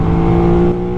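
An Aprilia RS 660 sport motorcycle engine revs hard and close, a loud, steady high-pitched drone as it accelerates.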